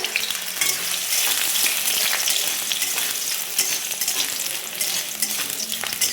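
Potatoes and drumstick flowers fry in hot oil in a kadai with a green chili, a loud, dense, continuous sizzle close to the pan with occasional stirring clatter and no talk.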